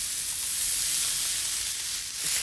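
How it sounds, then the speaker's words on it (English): Beef burger patties topped with onions sizzle steadily on a hot grill, a constant bright hiss and crackle close by, with no voices. "Oh, you can already hear that sizzle."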